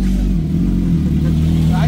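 A Suzuki Hayabusa Gen 3 motorcycle engine revs steadily at close range, a loud, continuous low rumble held throughout with a slight rise near the end, while a voice talks over it.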